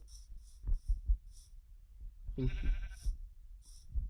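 A single bleat from a sheep in a video game, set among soft thumps and repeated short high chimes.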